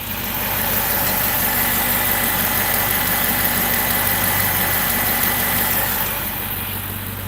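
A Hemi engine with a brand-new long block idles steadily with a persistent ticking, the low rumble running evenly and close for several seconds with no talking.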